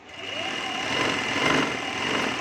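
An electric sewing machine stitching a dhoti salwar: a steady, fast mechanical whir and buzz that runs continuously and close up, rising slightly in intensity, with no talk over it.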